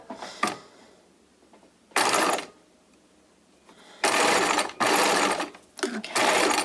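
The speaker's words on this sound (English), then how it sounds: "Obviously, if I was sewing this one for reals, I would be sewing like with a matching thread." A sewing machine stitching a knit headband with brown thread, running in short loud bursts separated by pauses, close by, no talk.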